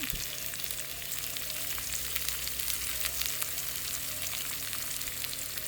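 Amaranth stems fry in a pan with turmeric, giving a steady close sizzle with a low rumble underneath that drops away partway through, and no talk.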